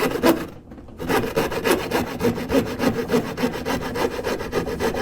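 A hand saw cutting wood for a traditional dovetail pipe and tobacco box, with loud, close, rhythmic back-and-forth strokes and one brief pause near the start.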